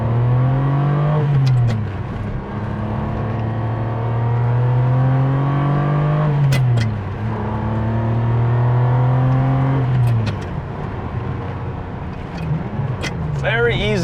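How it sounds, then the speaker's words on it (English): Powerful 485 horsepower V12 engine of a 1997 Ferrari 550 Maranello revving through rising gear pulls, each climb ending in a shift, loud and near, with several strong accelerations in a row. "let's see how this 485 horsepower V12 engine sounds like"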